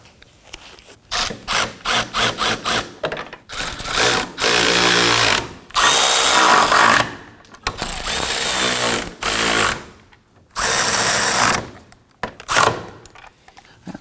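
A power tool, likely an impact driver, snugs the hub bolts on a 2015-2024 Nissan Murano rear control arm in a crisscross pattern: loud, close, repeated bursts of rattling whir with short pauses between them and no talk.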